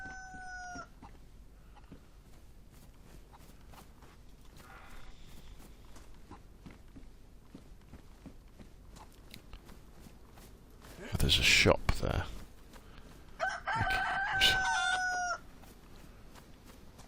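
Rooster in the video game DayZ crowing twice, loud and close, in two long calls near the end, after a stretch of quiet footsteps and faint earlier crowing, with someone talking briefly.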